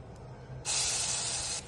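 Green chillies dropped into hot ghee for sabudana khichdi, a sudden loud sizzling hiss that bursts in and holds steadily for about a second, close up with no talk.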